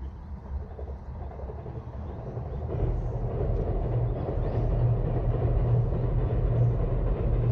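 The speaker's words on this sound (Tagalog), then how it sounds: "Yun ang train guys" A train rumbles past on a single-track railway line in a quiet, rural-feeling area, a steady low roar that swells and holds, carried with wind buffeting the microphone.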